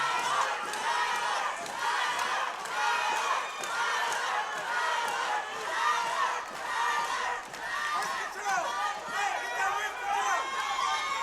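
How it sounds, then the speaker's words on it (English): Supporters cheering for Tyler Berg during the third round of a KCFA 28 cage fight, a steady, lively roar of shouting voices that rises and falls and carries on with no pause. "Tyler supporters behind us cheering him on, hoping that he can come back and get a victory here in the 3rd round."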